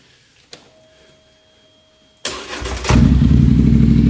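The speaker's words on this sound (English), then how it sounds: "The exhaust is loud." A dirt bike engine starts after a faint click and a quiet pause, catching with a sudden loud burst. The exhaust settles into a steady, loud, rumbling idle close by.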